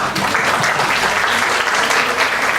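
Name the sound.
classroom applause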